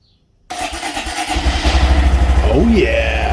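A Honda Monkey motorcycle with a 124cc single-cylinder, four-stroke, fuel-injected engine starts after a short silence, catching into a steady, close, loud running rumble that lasts the rest of the clip.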